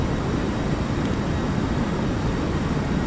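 An Airbus A320-200 in Delta Air Lines livery climbs through about 1,000 feet in the Aerofly FS Global flight simulator, giving a steady, even broadband roar of engine and airflow with no break and no voices.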